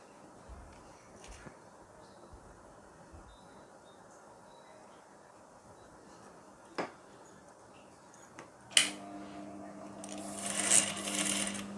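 A sewing machine joins fabric pieces for a front-crossover blouse. A quiet room with faint knocks gives way near the end to a louder, humming run of stitching lasting a few seconds.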